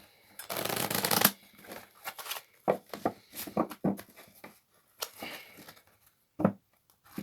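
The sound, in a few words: shuffling a Spirit Oracle card deck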